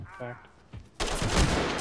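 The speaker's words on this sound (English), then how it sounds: "Shotguns are so cool and scary" Shotgun fire in the tactical shooter Ready or Not, a loud close blast with rolling gunfire that follows a brief spoken word.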